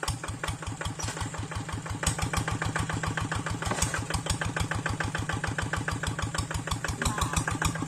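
A hand tractor plough engine runs steadily and loudly close by, a fast, even chugging beat with a rough mechanical rattle, moving across a rocky irrigation ditch bank, with no talk over it.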